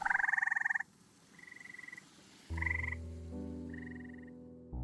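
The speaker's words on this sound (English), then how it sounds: "surrounded by a symphony of froggy trills" Frogs croak and trill at a pond, loud rhythmic trills alternating with shorter calls, then a deep steady low drone joins in the second half with higher trills continuing above it.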